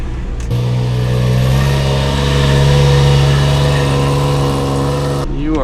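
A 1996 Sea-Doo XP800 jet ski engine, left sitting for 15 years, runs loud and close with a steady, slightly surging buzzing drone that cuts off abruptly near the end.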